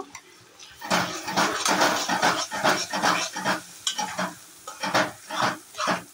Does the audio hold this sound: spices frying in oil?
yes